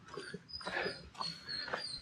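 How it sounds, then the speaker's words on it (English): Near-field canine whimpering and yipping: a pet dog giving several short whining cries and bark-like yelps, moderately faint, with no speech over it. "So that's why my dog was barking."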